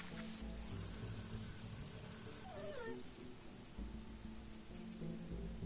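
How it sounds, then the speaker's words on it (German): A dog whimpers from hunger in the survival video game Sheltered, a faint rising whine heard briefly over steady background music and rain-like ambience, with no talking. "Ah, der Hund hat Hunger."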